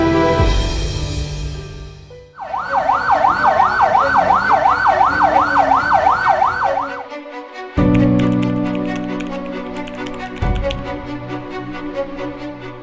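An ambulance siren wails loudly and close with a rapid rising-and-falling sweep for several seconds, then cuts out, before a steady tone and vehicle rumble carry on.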